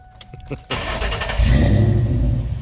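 A Ford Coyote V8 car engine with a full 3-inch exhaust fires up and revs hard, a deep rumbling exhaust roar building and holding loud and close.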